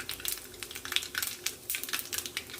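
Mustard and cumin seeds hit hot oil for tempering, crackling and spitting in quick irregular pops over a soft steady sizzle, close and fairly quiet.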